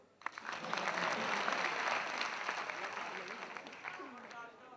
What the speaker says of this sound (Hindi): ताली क्यों बजाते हैं बताता हूँ आपको।